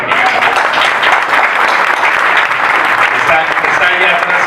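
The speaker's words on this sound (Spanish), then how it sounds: "Así que un aplauso por favor para Miguel." An audience at a book presentation claps for Miguel, loud, dense, sustained applause throughout, with some voices mixed into the clapping.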